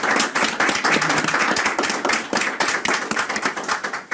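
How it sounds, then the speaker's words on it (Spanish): Audience applause for a deputy at a handover ceremony of the Chamber of Deputies' governing board, rapid overlapping hand claps rolling steadily and near, loud and uninterrupted, with no talking over it. "Un aplauso, por favor, para la diputada"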